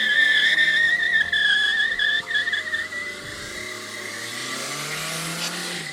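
Car tires squealing in a long, loud, wavering screech as the car skids, while its engine revs beneath, then the squeal fades into a broader rushing engine and road noise.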